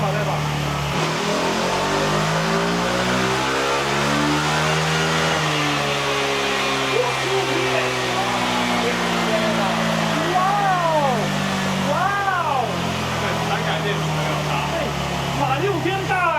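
A Kymco G7 scooter with a sodium-ion battery revs on a dynamometer, its engine climbing in pitch through repeated loud pulls and drops. The steady whine of the rollers runs underneath, with voices faintly in the background.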